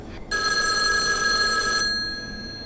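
A telephone at a county sheriff's police station gives one loud, bright electric bell ring lasting about a second and a half, then fades into quiet.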